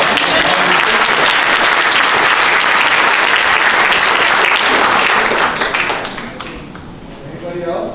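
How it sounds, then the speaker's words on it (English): A congregation at a church hundredth-anniversary Mass breaks into loud, dense applause that holds strong for several seconds, then thins and fades near the end. "Give them a round of applause."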